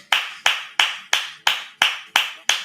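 One person claps slowly and deliberately in imitation of Jason Garrett's clap while reacting to a Buccaneers–Saints football game, eight sharp, close, evenly spaced claps.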